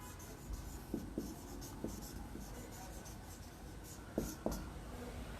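A pen writes on paper during an accounting lesson, making soft, faint scratching strokes and a few light taps against a quiet background.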